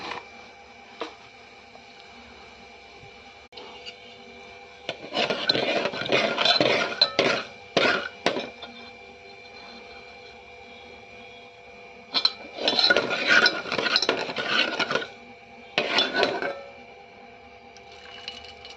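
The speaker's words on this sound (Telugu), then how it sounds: "తాలింపు గింజలు దోరగా వేగినాయి ఫ్రెండ్స్" Cumin tempering seeds frying in a pan, a faint steady sizzle interrupted by two loud stretches of scraping and clinking as a spoon stirs against the metal pan, with no talk.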